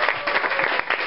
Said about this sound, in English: Alex, everyone give Alex a round of applause